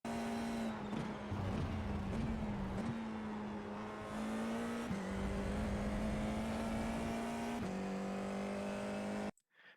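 An FIA F4 race car at Road America lapping at speed, its engine droning loud and steady with pitch dips at gear changes and braking, heard from onboard with no talk.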